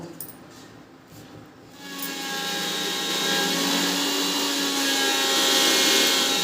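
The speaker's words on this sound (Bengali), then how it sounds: "দিয়ে মিক্সিতে একটু ঘুরিয়ে নেব যতটা মানে গুঁড়ো হয়" An electric mixer grinder whirs loudly and steadily as it grinds dried curry leaves into powder, starting after a short quiet lead-in and holding a continuous high motor drone.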